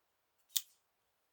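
EF Eafengrow folding knife blade snapping out once, a single quick metallic flick, crisp and close in an otherwise quiet room.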